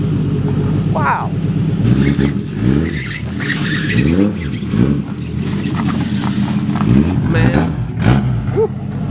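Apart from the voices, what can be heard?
straight-piped Nissan Skyline GT-R RB26 engine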